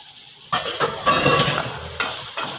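Tamarind, dried chili, salt and garlic stirred in a hot pan for urad dal chutney, with a steady sizzle and several spoon scrapes against the pan, close and loud, no talking.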